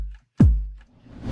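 A single deep synthesized kick drum, shaped by EQ low boost and a tightened decay, thumps once with a sharp attack and quick-falling low boom, alone and close.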